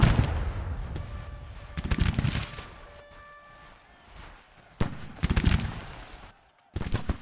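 Musket volleys in a Civil War battle video game, rolling bursts of many overlapping shots with booming low rumbles, fading between salvos and returning loud.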